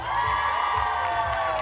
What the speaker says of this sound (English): Here by thunderous round of applause, let me hear it for her.